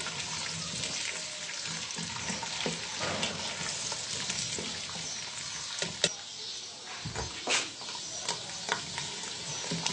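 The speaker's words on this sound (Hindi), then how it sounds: "ये हम थोड़ी देर इसको भूनेंगे, बादाम, काजू और सौंफ।" Almonds, cashews and fennel seeds roasting in a pan, a steady crackling sizzle with occasional scrapes and knocks of stirring, fairly close and alone.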